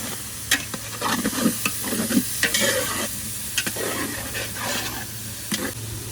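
Beef mince sizzles steadily in a pot while a spoon scrapes and stirs it in repeated close strokes, the frying hiss continuous beneath the clatter.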